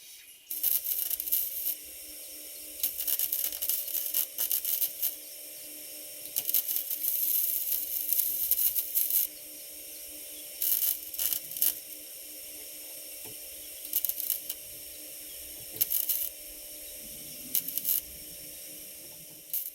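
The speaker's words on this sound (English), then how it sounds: "I'm taking my time in between the spot welds, giving it time to heat up, but making sure I get adequate penetration" A welder lays spot welds on the outer rear frame rail panel of an LX Mopar Magnum, Charger or 300, heard as a series of about eight short, harsh crackling bursts separated by brief pauses, close by and without speech.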